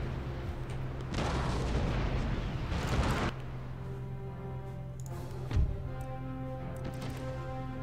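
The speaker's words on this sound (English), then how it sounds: "Blast another broadside in here." Warship cannons in Empire: Total War fire a broadside of heavy booms that merge into a long, rumbling roar, followed by scattered quieter blasts and a few distant thuds against the ongoing battle ambience.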